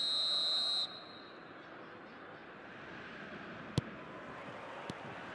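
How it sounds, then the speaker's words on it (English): Referee's whistle in the eFootball video game, one sharp sustained high blast that cuts off abruptly, followed by low crowd ambience and a couple of faint clicks. "There's the whistle."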